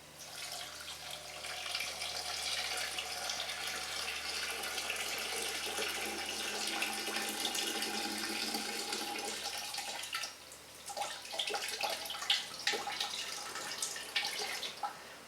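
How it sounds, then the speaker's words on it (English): Freshly brewed tea poured into a jar for kombucha, a steady, close liquid stream running for about ten seconds before breaking into a few splashes and drips. "I can begin by putting the liquid inside."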